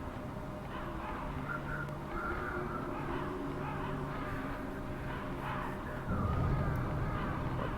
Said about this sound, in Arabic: صوت غربان هذول غربان